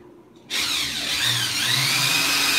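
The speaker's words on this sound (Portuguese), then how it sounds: "Vou parafusar." A power drill drives screws into pallet wood in a woodworking job. After a short quiet start, the tool whirs on loud and steady for the rest of the stretch, with no talk.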